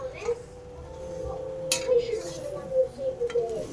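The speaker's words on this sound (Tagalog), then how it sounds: "Sige, haluin mo" A spoon scraping and clinking against a cooking pot while food is stirred in a home kitchen, steady metallic scrapes with occasional knocks, under a conversation.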